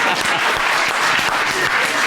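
An audience claps together in a steady, loud burst of applause, many hands at once close and continuous without a break.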